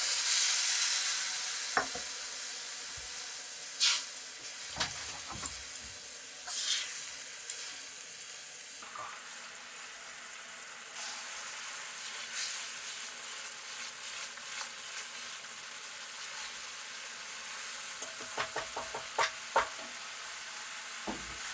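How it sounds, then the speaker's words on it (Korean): Risotto rice simmers in a pan after water is poured in, giving a soft, continuous bubbling hiss with occasional sharper scrapes and clinks of stirring, close and moderately quiet. "쌀이 코팅이 되었으면 물을 넣고 알덴테 직전까지 익혀줍니다."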